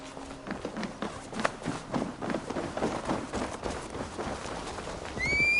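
Horses gallop in a video game as a rider sets off, with rapid clip-clop hoofbeats and a whinny over a busy, moderately loud in-game soundscape, ending in a rising tonal sweep.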